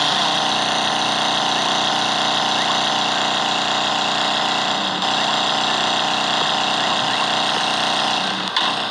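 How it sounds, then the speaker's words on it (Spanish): Motorcycle engine in a video game, droning at a steady, loud pitch throughout with an even mechanical whine. No talking is heard over it. "Un momento, que esta moto no deja oír nada."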